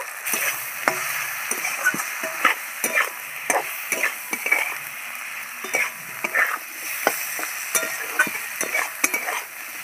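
Ground spices with ginger and garlic paste frying and being stirred in a pan for Bangladeshi fish curry, a steady sizzle broken by repeated scraping stirs of the spoon, close and fairly loud, with no talking.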